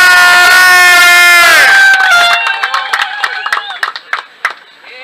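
Crowd at a road-side dance show cheers loudly over music for a dancer, then breaks into scattered claps and shouts that trail off unevenly.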